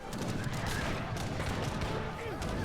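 Cannons fire in a real-time strategy game battle with the Incas, a dense, continuous clatter of booming shots and battle noise at steady loudness.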